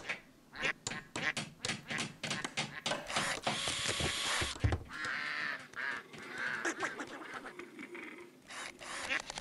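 Cartoonish duck quacks from the video game Sneaky Sasquatch, a dense run of short repeated calls layered over busy game sounds and a brief mechanical whir, close and fairly loud throughout.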